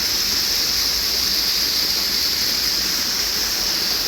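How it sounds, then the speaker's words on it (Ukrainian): A small, almost mountain-like waterfall spills down beside stone steps near the Cathedral of Saints Peter and Paul in Brno, giving a steady, loud rushing wash of water that runs unbroken with no voices. "Це такі сходинки і гарний майже гірський водоспад."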